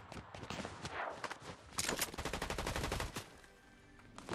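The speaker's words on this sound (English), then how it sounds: "He's just shooting." Rapid bursts of automatic gunfire crackle through a video game shootout, a dense rattling volley of close shots with brief pauses, loud and alone without speech.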